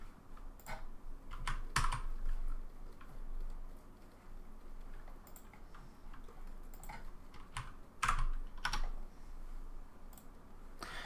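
Scattered keyboard typing in bursts of clicks and keystrokes, fairly close and moderately loud, with short pauses between runs and no talking.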